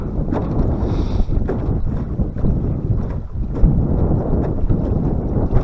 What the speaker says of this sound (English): with this wind blowing